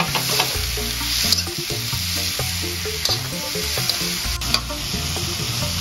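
Chilies and tomatoes fry and are stirred in hot oil for sambal, with a steady close sizzle broken by repeated scraping stirs and no talk.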